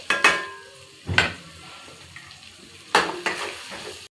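Powdered spices and cashews sizzle in a hot pan for kaju paneer masala, with three sharp bursts of frying and stirring rising over a low steady crackle, close and fairly loud.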